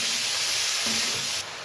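Cabbage dropped into hot oil in a pan, a loud, dense steady hiss of sizzling that drops slightly in level near the end, with no voices.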